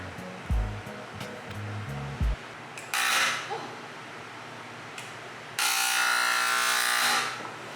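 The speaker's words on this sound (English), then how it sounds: "I was really excited to try the paint sprayer my dad lent me to speed up the process" A borrowed paint sprayer hisses loudly as it sprays paint onto furniture outdoors, with two long broadband bursts, the second lasting about two seconds, after some low thumping handling noises.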